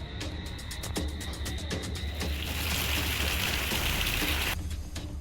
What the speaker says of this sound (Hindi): झांसी में लगातार भारी बारिश हो रही है।